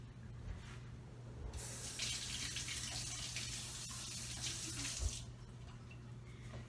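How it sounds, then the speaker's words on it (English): Tap water running into a sink during handwashing, a steady splashing stream that swells louder for a few seconds in the middle as hands pass under it, close and fairly quiet. "I'm gonna wash my hands really quick"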